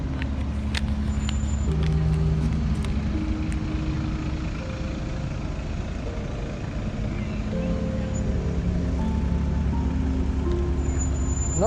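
Cars rolling onto the Portaferry–Strangford ferry, a steady rumble of engines and tyres on the deck with a low droning hum throughout, fairly close and continuous, with brief metallic clanks.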